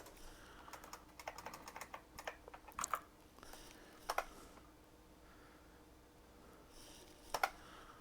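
Computer keyboard keys pressed in short irregular bursts of soft clicks, with a few louder taps standing out against quiet room noise, near and faint.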